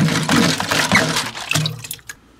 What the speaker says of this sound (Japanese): こうやって超音波洗浄。